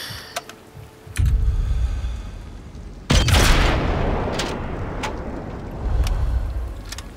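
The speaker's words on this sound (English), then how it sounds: "I think this is the, this is the anti-tank gun." A heavy anti-tank gun fires in the video game Sniper Elite 5, with a loud booming blast that rings out over rumbling battle noise, and a few fainter thuds before and after.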